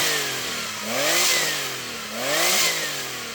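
A Porsche 964 911 Turbo, heavily modified with an aftermarket exhaust, revs twice in quick succession, each blip sweeping up into a loud rasping wail and dropping back to a burbling idle, heard close with no talking.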